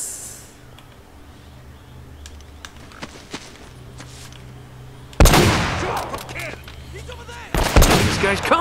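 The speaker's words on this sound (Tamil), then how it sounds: "துப்பாக்கி ஸ்னைப்பர் துப்பாக்கி" In Uncharted: Drake's Fortune, sharp gunshots from a sniper rifle burst in suddenly, two loud close blasts with ringing tails, after quieter footsteps and faint game ambience.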